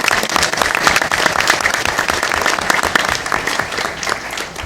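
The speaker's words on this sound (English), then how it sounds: "Round of applause to you and to our..." Audience applause for families at a school board meeting, a sustained, fairly loud round of clapping that holds steady for several seconds before thinning slightly toward the end.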